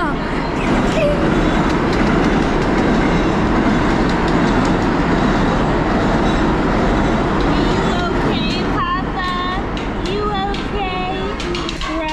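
A train arriving at a station in New York City rumbles and clatters steadily along the rails, with a high squeal of brakes toward the end as it slows.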